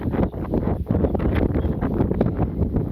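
Wind gusting outdoors in a village as rain begins, a loud, continuous rushing roar buffeting the microphone for the whole stretch, no talk.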